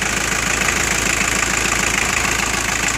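An AAZ engine runs steadily on a stand, a loud, close, even idle with a faint rhythmic knock and no voices.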